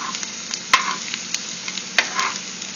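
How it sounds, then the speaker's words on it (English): Garlic sizzles in a vegetable pan as it is stirred, a continuous close frying hiss broken by a few sharp utensil clicks against the pan. "put the rest of the garlic in there and stir that around a little bit"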